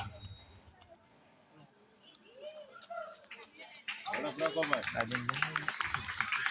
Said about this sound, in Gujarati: ફરી એકવાર તાળીઓના ગડગડાટથી હેમાંશીબેનને